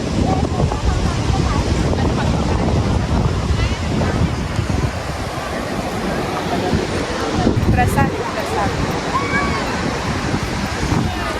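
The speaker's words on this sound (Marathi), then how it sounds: "गणपतीपुळेच्या इकडचा बीच आहे" Surf washes steadily onto a beach near Ganpatipule on the Konkan coast, with continuous broadband roar and wind buffeting the microphone; voices talk faintly underneath.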